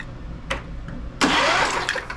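A John Deere LA130 lawn tractor engine is cranked with the key, giving a couple of short clicks followed by a loud, sustained starter-driven cranking burst close by.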